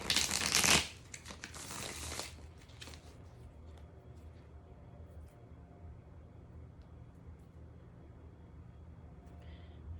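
A deck of new, slippery playing cards being shuffled, a loud close riffle burst followed by softer shuffling, then quiet room hum for the rest.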